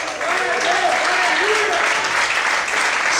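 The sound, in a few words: congregation applauding in church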